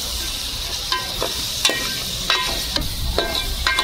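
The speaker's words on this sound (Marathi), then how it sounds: "ग्रेव्ही चांगली कांद्यामध्ये परतून घेतली" Tomato gravy sizzles with onions and potato in a pan, a steady frying hiss broken by repeated scraping stirs of a spoon, close and without talk.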